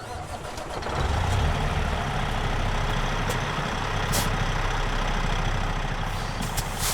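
A truck engine in American Truck Simulator cranks over at about one second, then settles into a steady, loud, low diesel idle that runs unbroken to the end with no talking.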